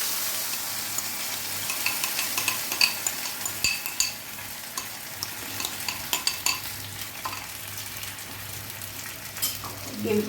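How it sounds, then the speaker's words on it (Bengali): Gravy with whole spices such as cardamom fries in a pan for Afghani chicken, a steady sizzle broken by frequent rhythmic scrapes and knocks of a spatula being stirred around. "গ্রেভিটাকে একটু নেড়ে চেড়ে নেবো ভালো করে"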